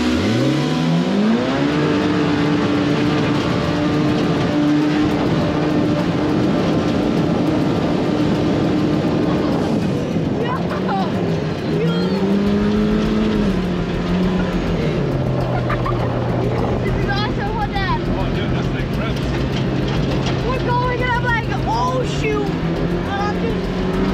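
Turbocharged off-road vehicle fitted with a Force Turbo kit accelerates at full throttle in the dunes, its engine pitch climbing and shifting through gears, loud and close, with voices shouting over it.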